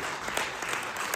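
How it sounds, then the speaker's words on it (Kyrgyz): Audience at a Kyrgyz aitysh poetry contest claps in a brief, steady burst of close, even applause. "Кошулгандар сөзүмө кол чаап коштоп койсо экен"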